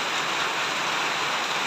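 Rain falling steadily, a dense even hiss of drops on surfaces close by, unbroken and without voices.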